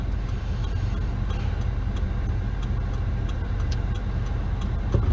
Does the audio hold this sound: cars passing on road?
yes